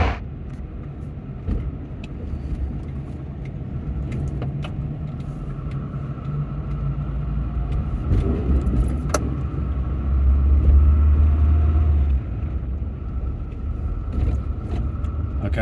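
A Volvo 240 car drives along with a steady low engine rumble and road noise from inside the cabin, swelling slightly partway through, and no voices.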